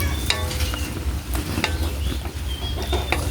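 Squid adobo being stirred in a frying pan, a close, busy sizzle with scraping and clinking of a utensil against the pan in quick irregular strokes.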